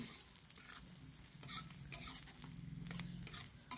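Onion and green chillies fry in a pan for paneer bhurji, giving a soft, steady sizzle with light stirring scrapes, faint and close, with no talking.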